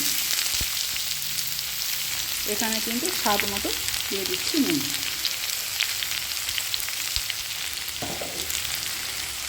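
Potatoes and mixed vegetables fry in a pan with a steady, close sizzle that runs throughout, while someone speaks briefly over it partway through.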